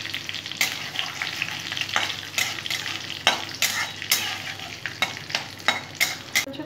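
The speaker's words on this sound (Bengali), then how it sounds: "ফোড়নটা আমি ভেজে নেব।" Whole cardamom, cinnamon and bay leaf sizzle steadily in hot oil, with a constant crackling hiss and repeated scraping stirs of a utensil in the pan.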